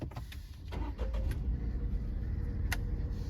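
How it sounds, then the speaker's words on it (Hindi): A Tata Altroz iTurbo car's engine starting from inside the cabin: a brief starter whir followed by a low, steady idle hum, fairly quiet and close, with no talking. "पहले मैं गाड़ी स्टार्ट करता हूँ।"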